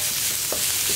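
Carrot sautés with onion, chilli and peas in a pan, a brief steady sizzle close up with a faint stir scrape midway.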